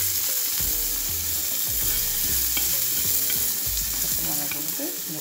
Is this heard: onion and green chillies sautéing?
yes